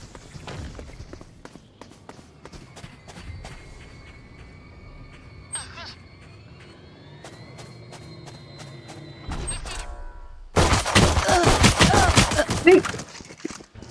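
Video game gunfire: scattered clicks and faint electronic tones for most of the stretch, then a loud burst of rapid shots crashes in near the end and rattles on for a few seconds.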